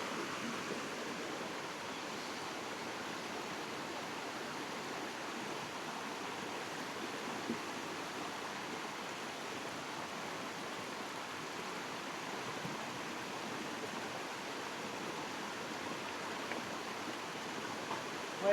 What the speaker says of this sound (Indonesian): lagi merekam aliran sungai.